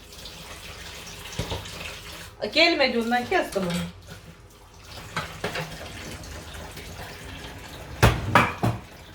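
Hot water runs from a kitchen tap as dishes are washed at a sink, with clinks of plates and cutlery in short bursts while someone talks.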